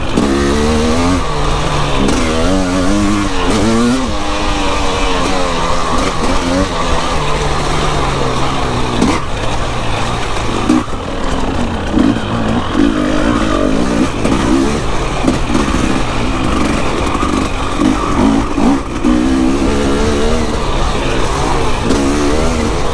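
An enduro motorcycle rides a muddy, slippery course in the rain, its engine loud and close, revving and rising and falling in pitch continuously throughout.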